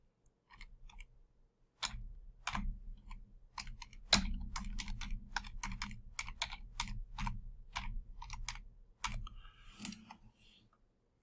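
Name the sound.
typing on a computer keyboard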